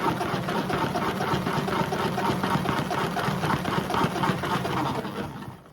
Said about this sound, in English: what the salad spinner does is it helps to get any excess water that's left